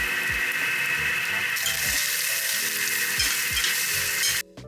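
Curry leaves and fennel seeds fry in hot oil with a loud, continuous crackling sizzle, broken by intermittent low clinks and knocks from stirring.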